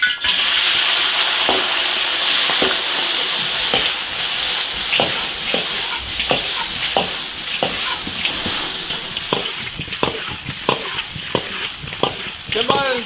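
Soft-shelled turtle and ox penis stir-fry in hot oil in a wok, giving a steady loud sizzle punctuated by regular scraping strokes of the spatula roughly every half second.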